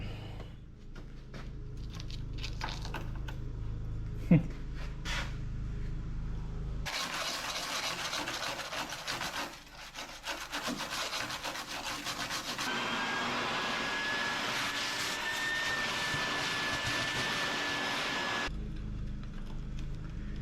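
Metal panel being cut on a 1969 Pontiac Catalina wagon: a harsh, steady, close-up cutting rasp runs for about twelve seconds, broken by a short dip partway through, with quieter shop sounds before and after.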